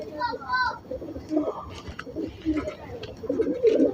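Pigeons in a loft give soft repeated coos close by, with several people talking over them.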